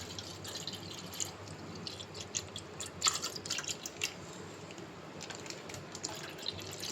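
Half a litre of milk is poured into a vessel while making junnu, a soft trickling and splashing stream with a few brighter drips, moderately close and fairly quiet, with no speech.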